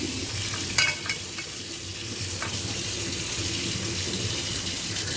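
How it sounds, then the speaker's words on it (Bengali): Banana flower is washed under a running kitchen tap, a steady hiss of flowing water with a few splashes and knocks near the start as it is handled in the stream. "ভালো করে ধুয়ে নিই।"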